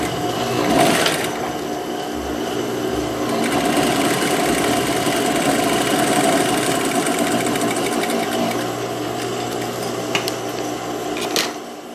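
Sewing machine stitching a topstitch along the folded entrance edge of a knit blouse pocket, a steady loud mechanical whir running almost continuously with brief pauses near the start and end.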